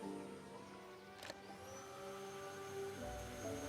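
Shadow absorber in the Star Stable video game drawing in rift energy, a steady whirring vacuum-like drone that holds through with a brief sharp crackle partway and a rising surge near the end, no talking.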